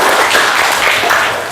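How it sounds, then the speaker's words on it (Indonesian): Audience applause in a school guidance and counseling session, a short burst of dense, steady clapping from a group, fairly loud and close. "Oke, tepuk tangan buat kita semua ya."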